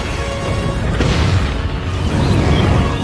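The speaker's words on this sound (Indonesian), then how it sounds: "seketika roket itu meledak dan menewaskan Riot di dalamnya" A rocket explodes after its fuel tank is ripped open in a Venom film scene, a loud, sustained booming roar with a sharp crack partway through, rumbling continuously without speech.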